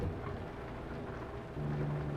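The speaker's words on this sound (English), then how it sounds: "And just as I say, it's not raining. It starts raining." Rain in Euro Truck Simulator 2, a steady, dense hiss of falling rain with a low rumble underneath, constant and fairly loud with no voices.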